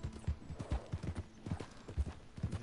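Horse hooves clip-clop in an even, brisk trot while riding off the trail in Red Dead Redemption 2, each hoofbeat close and distinct in a steady rhythm, with no talking.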